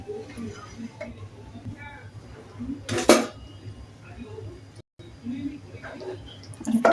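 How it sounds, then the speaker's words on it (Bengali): A utensil stirs jaggery in a pan for sesame sweets, scraping and clinking against the metal with one loud clatter midway, while a voice is heard in the background. "গুড়গুলো নাড়াচাড়া করে নিচ্ছি"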